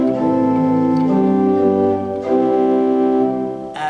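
A pipe organ sounds a single diapason, or principal, flue stop: a steady, sustained chord with a clean, tonal quality, holding for several seconds and then briefly changing near the end.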